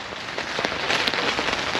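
Steady rain patters on a tent in a storm at a safari campsite, a dense continuous hiss with scattered close drops ticking on the fabric throughout.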